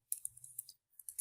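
Typing on a computer keyboard, with a quick run of light, close clicks, a brief pause, then a few more keystrokes, all faint and with no talking.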